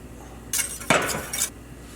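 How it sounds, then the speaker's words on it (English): Metal whisk stirring a sugary sauce in a pot, a short burst of quick scraping and clinking strokes against the metal, close and alone. "So I'm gonna use a whisk. I'm gonna whisk it up."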